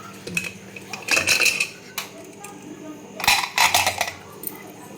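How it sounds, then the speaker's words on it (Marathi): A pressure cooker holding cooked mutton is opened with bursts of metallic clanks and clinks of lid and utensils, close and bright, separated by quieter gaps under a faint background hum. "कुकर उघडून"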